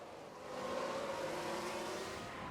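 A Formula 1 race car in the F1 Manager 2022 video game locks up its brakes, producing a brief rising engine and tyre howl over a steady hum of game audio with no voices.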